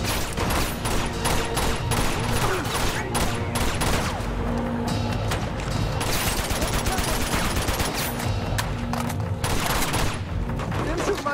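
Gunfire in the Uncharted 2 siege chapter, a dense, loud, nonstop fusillade of rapid overlapping shots and impacts throughout, with bits of talk under it.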